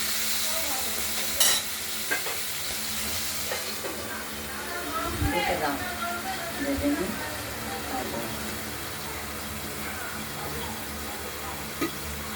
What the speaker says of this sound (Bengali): মাছগুলোকে আমরা একটু ভালো করে ভেজে নেব